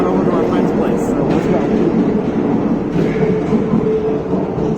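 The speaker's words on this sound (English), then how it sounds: "Okay, we're just at the metro" Loud, steady roar of a metro subway train at a station, a dense continuous rumble with faint rattling that fills the whole stretch, with a voice faintly mixed into the noise.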